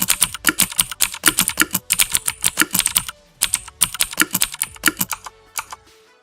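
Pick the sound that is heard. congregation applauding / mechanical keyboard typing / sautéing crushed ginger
mechanical keyboard typing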